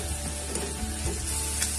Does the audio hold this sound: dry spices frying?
yes